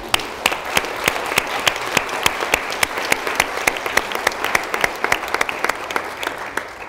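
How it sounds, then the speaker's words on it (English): An audience at a staff all-hands meeting applauds promoted and tenured colleagues, with steady, moderately loud clapping from a sizable crowd that carries on evenly throughout. "So we can give you a big round of applause."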